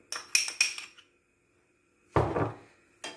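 Utensils clinking against a bowl while butter and sugar are mixed for a lemon meringue tart: a quick run of sharp metallic taps and scrapes, a pause, then a louder scraping stir and one more clink.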